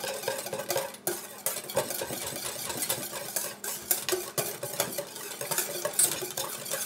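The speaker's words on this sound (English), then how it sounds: "And then let's just whisk this." A whisk working jalapeno ranch dressing mix from a packet in a bowl, with quick irregular clinks and scrapes against the bowl and a wet churning underneath, steady and close.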